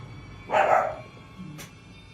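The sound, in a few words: dog barking in a horror video game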